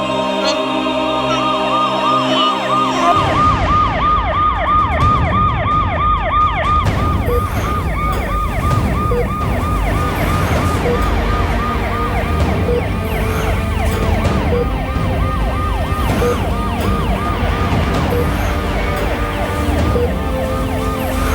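A wailing ambulance siren sounds loud and continuous, rising and falling in steady repeated sweeps and staying close throughout with no talk over it.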